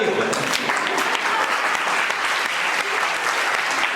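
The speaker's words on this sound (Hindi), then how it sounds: "जिसने अभी ताली नहीं बजाई उसका नहीं होगा।" An audience claps at a motivational business seminar for an MLM company. The applause is dense and steady, filling the full four seconds at close range, and no voice stands out over it.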